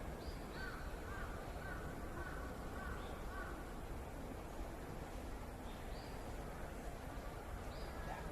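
Crows cawing in short repeated bursts against steady wind in the trees, with faint far-off train noise under the wind; the calls stay moderately distant and recur through the whole stretch.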